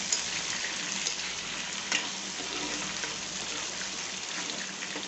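Green chillies, curry leaves and onions sizzle steadily in hot oil in a pan for Tamil Nadu style lemon rice, a continuous close frying hiss with no talking.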